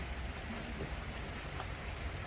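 Steady rain falls outdoors in a cool, damp setting, a continuous even hiss of drops on surfaces with a faint low rumble beneath, no voices present.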